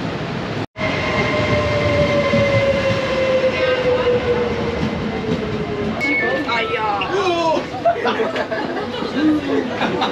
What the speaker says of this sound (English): this is the metro station over here